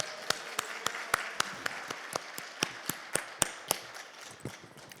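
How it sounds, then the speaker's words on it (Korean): A church congregation applauds during a Sunday service as the pastor comes forward: steady rhythmic clapping with sharp, evenly spaced beats over a dense wash of applause, fading slightly toward the end. "우리 하나님 앞에 영광의 박수 올려드립시다"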